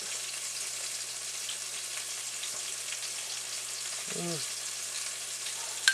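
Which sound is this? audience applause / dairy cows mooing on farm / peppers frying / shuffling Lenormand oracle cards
peppers frying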